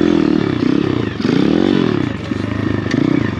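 An Amazon dirt bike's small engine revs hard in repeated throttle bursts during a wheelie attempt, the buzzy note climbing and dropping in waves, loud and close with some rattling clatter.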